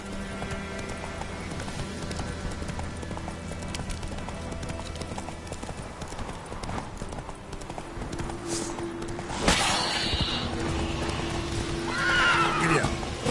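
A horse in The Witcher 3 gallops with steady, rapid clip-clop hoofbeats and lets out a loud whinny partway through, joined by game ambience and effects, with no talking.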